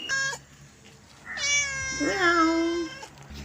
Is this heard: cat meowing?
yes